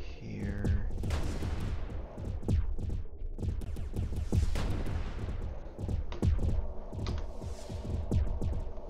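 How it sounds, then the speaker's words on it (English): Weapon fire from a space battle video game at an enemy torpedo launch: dense, repeated booming blasts and rumbling impacts that run continuously, loud and close, with several sharp bursts throughout. "Enemy torpedo launched."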